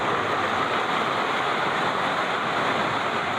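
Floodwater from an overflowing river rushes in a loud, unbroken roar at the Evangelista Bridge in Biñan, Laguna, during Typhoon Kristine, a dense wash of noise with no voices.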